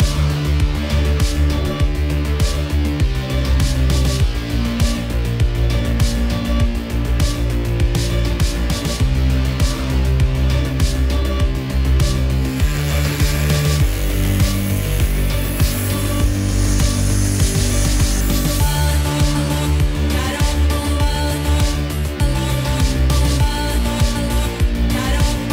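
A Dremel rotary tool cuts during a PC water-cooling upgrade, giving a steady high whine with repeated stops and restarts across the clip, loud and close with no talking.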